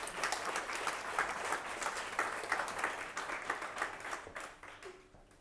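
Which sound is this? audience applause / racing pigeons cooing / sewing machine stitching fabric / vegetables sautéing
audience applause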